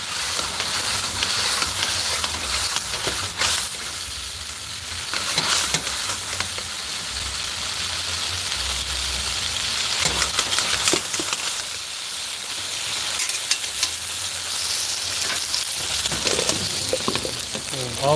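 Food stir-frying in a non-stick wok over a flame gives a steady broadband sizzle and hiss throughout, with brief scraping bursts from stirring and low background murmur.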